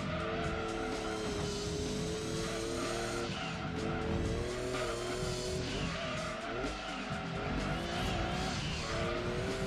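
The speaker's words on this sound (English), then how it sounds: "Oh, that drift!" Tires squeal in long, sustained skids as a car drifts through a corner in Gran Turismo 2, the engine droning loudly underneath for the whole stretch, with no voices.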